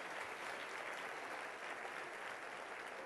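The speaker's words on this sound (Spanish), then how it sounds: "Denle un aplauso al Rey bendito" A Spanish-speaking church congregation at a Sunday service breaks into dense, continuous applause that holds at an even, full level throughout, with no voices on top.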